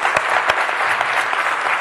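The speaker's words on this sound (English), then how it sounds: "Give Igor a round of applause." Audience at a tech talk on Chrome apps with AngularJS and Node bursting into loud, close applause, dense clapping with a few sharp individual claps standing out.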